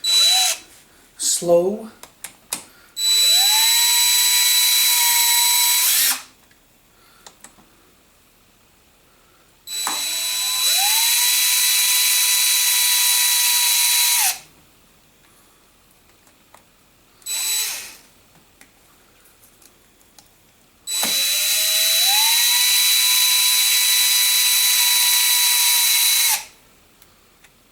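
A power drill on its lowest clutch setting drives bolts on a KTM 690 Enduro motorcycle, torquing them to 53 inch-pounds, in three long, steady, loud whirring runs with short pauses between them and a brief remark spoken early on.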